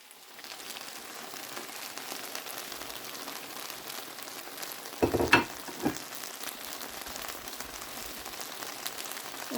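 Masala mixture frying in oil in a pan makes a continuous close sizzle, steady and moderately loud, with a short burst of stirring or clatter midway.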